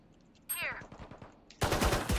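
Gunfire in a shooter video game rattles off in quick, evenly spaced shots, then a louder, denser burst of rapid fire breaks out, with players' voices talking briefly in between.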